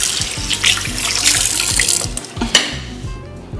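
Water gushing steadily from a sink tap as hands are washed, a close, bright hiss with small splashes and shifts in flow as hands move under the stream, tapering off near the end.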